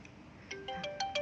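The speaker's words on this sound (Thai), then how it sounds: "ต้องขอโทษด้วยนะคะสำหรับเสียง" A phone ringtone starts up, its bright electronic melody rising in stepped notes, fairly quiet and alone.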